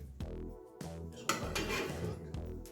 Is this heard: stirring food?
yes